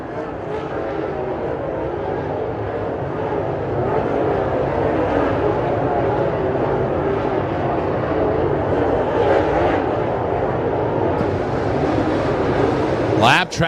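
Dirt-track race cars thunder down the back straightaway at Kokomo Speedway, a loud, sustained engine drone with a commentator talking over it throughout.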